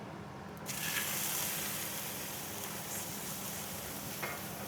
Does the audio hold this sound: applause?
no